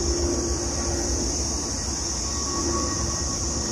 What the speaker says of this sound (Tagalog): Yun, may aeroplano pang dumadaan.